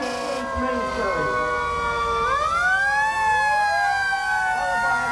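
Amesbury, Massachusetts fire engine E3 sounds a loud siren that winds up and sweeps in long rising and falling arcs as it rolls through a Santa parade, with talk and crowd noise beneath.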